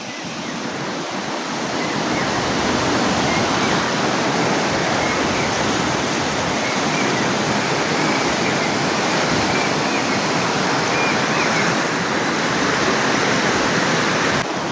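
Water pours and falls steadily in a river where fish are caught with bamboo, a dense, even rushing roar that continues unbroken throughout.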